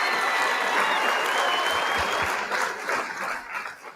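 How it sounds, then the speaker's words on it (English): Applause sound effect playing steadily in the background, a continuous dense clapping that holds loud for most of the clip and then thins slightly toward the end. "he's playing an applause in the background"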